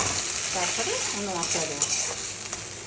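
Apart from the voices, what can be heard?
sautéing spices in a pan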